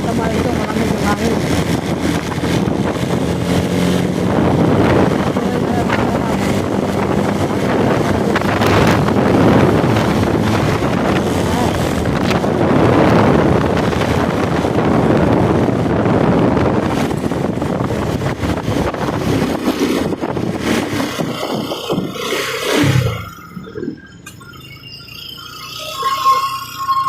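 Strong wind roars across the microphone during a boat ride, a loud, constant rumbling rush that drops away abruptly near the end, with voices talking faintly under it.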